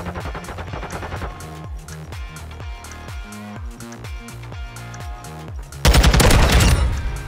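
Video game gunfire in rapid bursts, a steady stream of sharp shots through most of the stretch, ending in a loud burst of explosive noise near the end, with no talking.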